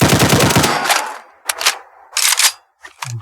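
Modern fully automatic gun firing in Fallout 4: a rapid close burst of sharp shots that ends around one second, followed by short separate bursts with quiet gaps between them.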